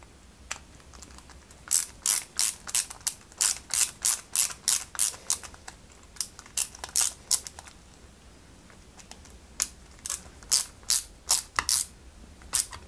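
Small AM screws are driven by hand into a 1/8 scale Ferrari 330 P4 model, giving bursts of quick, crisp ratcheting clicks close up with short pauses between turns.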